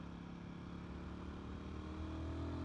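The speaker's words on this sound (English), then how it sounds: "It's a flexible, torquey engine, and it's quite characterful as well." A single-cylinder Royal Enfield Guerrilla 450 motorcycle engine runs steadily at a low thumping idle, a continuous close drone that swells slightly toward the end.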